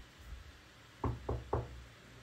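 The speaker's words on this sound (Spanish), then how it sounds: "tras escuchar los discretos toques en la puerta" Three discreet knocks on a door, soft and evenly spaced, heard alone over a faint background hiss.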